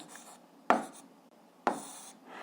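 Pen writing out an algebra solution on paper, two short distinct scratching strokes close to the microphone against a quiet background.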